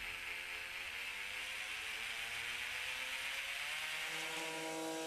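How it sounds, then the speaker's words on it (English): A Proxxon OZI/E oscillating detail sander with a triangular pad runs steadily with a continuous high buzzing whir, unbroken and close, with no voices. "This sander's special feature is its triangular sanding pad, which oscillates at a certain angle around the plate's centre."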